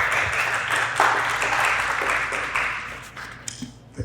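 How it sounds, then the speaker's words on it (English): A community audience at a Gold Canyon livestream event claps for a speaker, a dense wash of applause that slowly thins out, with a few scattered claps near the end. "The crowd's loosening up here with applause and all."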